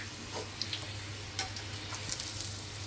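Puris puffing up as they fry in hot oil for a dhaba-style halwa puri breakfast, a steady close sizzle and bubbling throughout with a few brief spatters and stirring clinks, no talk.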